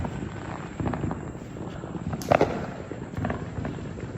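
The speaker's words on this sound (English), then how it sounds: "This is how you do fireworks without having to pay for parking." Neighborhood fireworks go off down the street, heard from a residential front yard as a series of distant pops and crackles with one sharper burst, over wind noise.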